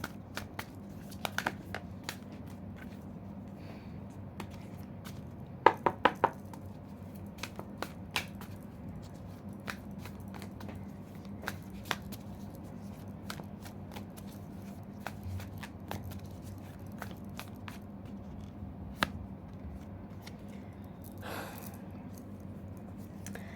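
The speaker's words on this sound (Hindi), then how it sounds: "मैं शफल कर लेती हूँ अच्छे से पहले" Tarot cards are shuffled by hand in a quiet room, a long run of soft riffling and sliding taps with a few sharper snaps, close and low in level, with no talking.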